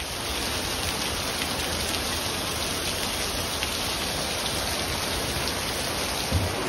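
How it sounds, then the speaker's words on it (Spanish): Rain beginning to fall in San Cristóbal de las Casas, Chiapas, Mexico, a loud, close, continuous hiss of drops on surfaces with no talking. "Está empezando a llover"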